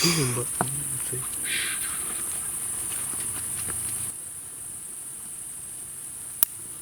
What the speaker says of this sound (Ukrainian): Ой, комарі пролетіли